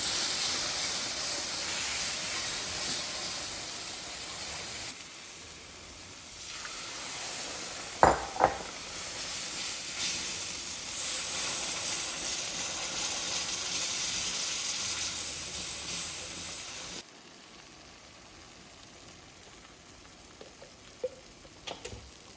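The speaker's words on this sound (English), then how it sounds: "Now, I'll keep it going. This is going to be our milk gravy." Milk gravy for chicken fried steak simmers and sizzles in a pan, giving a steady, close hiss that runs almost throughout and drops away near the end. A few light clinks break in briefly midway.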